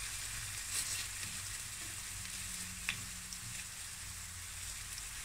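Potatoes frying in a pan give a continuous, moderately loud hiss of sizzling oil, with a single light clink partway through and no talking.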